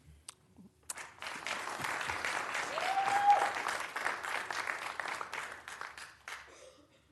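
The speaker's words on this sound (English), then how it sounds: "Ma'am, I think you got the highest level of applause, though." Applause breaks out from the audience at a city council meeting after a public comment, swelling into steady clapping that peaks midway and then tapers off.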